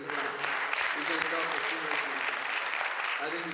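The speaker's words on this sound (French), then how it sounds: "je pense que c'est bien d'applaudir Puma Energy Ghana." An audience at a Puma Energy Ghana event applauds in a dense, steady patter of clapping that runs throughout at moderate volume, with a voice heard faintly underneath.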